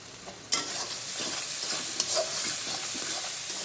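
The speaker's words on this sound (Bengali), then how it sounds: "পেঁয়াজটা একটু ভাজা ভাজা হোক" Onions fry in a pan for an egg bhuna with tomato, a steady broadband sizzle with a sharp clatter near the start and light stirring scrapes throughout, close and fairly loud.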